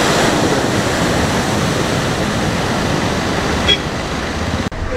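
Sea at the beach in Kerala, a steady broad roar of surf and wind close by, with a brief bump and a sharp cutoff near the end and no clear talk.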